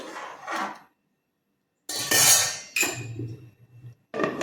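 Metal spoon scrapes and clanks against a cooking pot while stirring soaked rice for tomato rice, in a few separate bursts with short pauses between them.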